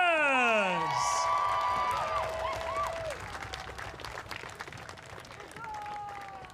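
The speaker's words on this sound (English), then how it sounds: "a lovely round of applause and a huzzah for third place, the Vultures!" A crowd at a buhurt armored-combat tournament applauds and cheers for the third-place team, with rising whoops up front giving way to sustained, steadily fading clapping and crowd noise beneath a voice.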